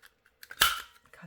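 Scissors snip through a paper ticket tab in a paper craft project, a single crisp close cut with a few faint rustles and clicks around it.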